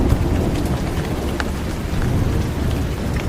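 Heavy rain pours down in a dense, steady hiss with scattered louder drops striking nearby surfaces, no voices.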